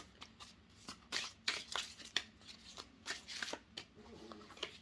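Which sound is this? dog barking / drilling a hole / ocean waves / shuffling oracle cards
shuffling oracle cards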